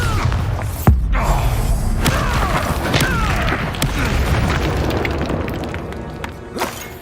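A Confringo fire-spell blast in Hogwarts Legacy lands with a sharp, loud boom followed by a sustained rumbling, crackling wash of combat noise and debris, with a smaller thud near the end.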